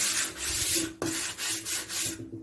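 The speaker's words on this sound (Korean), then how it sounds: "특히 이제 기존에 손잡이 볼트가 있던 주변으로 조금 세심하게 사포질을 해줍니다." Sandpaper rasps back and forth over the wooden front of an old vanity drawer, worked carefully around the old handle bolt holes, in steady close strokes with a brief pause midway.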